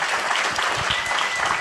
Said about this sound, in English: give one more round of applause to the speakers